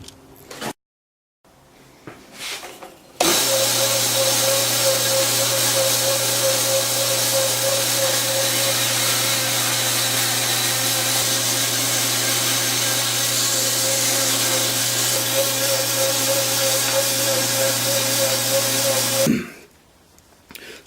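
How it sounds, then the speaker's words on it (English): A bandsaw cuts a wooden boom arm for a light stand: after brief knocks and a pause, the saw's steady motor hum and blade buzz run continuously for about sixteen seconds, then stop. "So I'm going to cut it out on the bandsaw."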